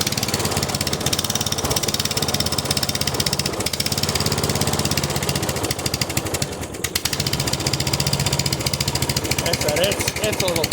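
A Murray riding mower's small engine idles steadily and roughly, running cold and a little stubborn, with a continuous close chugging drone and a voice talking over it.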